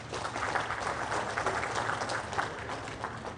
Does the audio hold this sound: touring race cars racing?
no